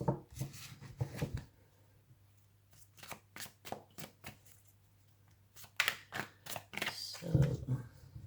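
Tarot cards being shuffled by hand, in several crisp bursts of riffling and tapping separated by short pauses, close and fairly quiet over a faint hum.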